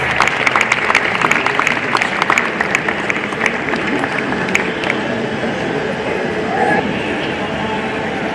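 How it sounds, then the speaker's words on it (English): Audience applause at the Uthishta Utsav 2023 inauguration as guests walk onto the dais, a dense steady clatter of many clapping hands filling the hall throughout, with a voice or two faintly underneath. "May we have a big round of applause, please, as our guests are coming upon to the dais."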